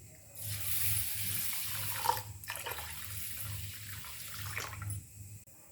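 Water runs steadily from a tap onto raw rice in a vessel, a soft, continuous close rush with gentle splashing that swells, holds, then tapers off near the end.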